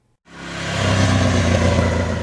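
A 2007 Moto Guzzi Norge V-twin motorcycle on open road, its engine sound rising abruptly from silence into a loud, steady, throbbing drone that holds close and continuous.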